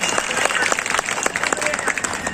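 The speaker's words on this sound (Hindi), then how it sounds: "एक बार जरा जोरदार तालियां बजाइए" Listeners at a Hindi poetry recital during a folk festival in Janjgir-Champa, Chhattisgarh, give loud, thick applause, a continuous wash of many hands clapping close by with crisp individual claps standing out.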